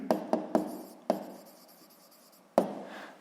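Chalk or pen tapping and scratching as a math expression is written out by hand: several sharp strikes close together, then a soft continuous scratch, then one more strike, close and fairly quiet.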